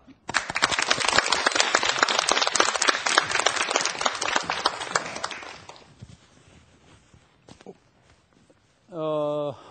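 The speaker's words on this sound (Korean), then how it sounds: "박수로 강의 청해 듣겠습니다." Lecture audience clapping to welcome a tax-saving lecturer, a dense burst of applause that fades out after several seconds, followed by quiet and then a short spoken voice.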